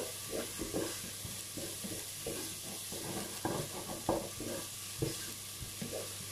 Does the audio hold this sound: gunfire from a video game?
no